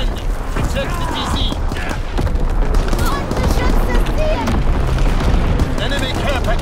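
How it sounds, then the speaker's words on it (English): Heavy artillery battery fire in Call of Duty: WWII, with dense, continuous booms and explosions rolling together into a loud barrage, mixed with radio voices speaking over the din. "Firing primary battery"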